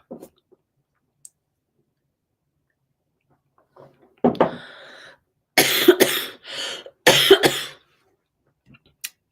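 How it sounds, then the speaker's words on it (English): A few harsh coughs burst out close by after a near-silent stretch, with a throat-clearing sound between them. "I'm just going to stop there because I'm coughing"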